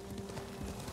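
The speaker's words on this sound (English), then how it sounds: "was I supposed to be riding my horse?" Horse hooves clip-clop in Ghost of Tsushima, a steady patter of galloping footfalls over a low rumble, brief and fairly quiet.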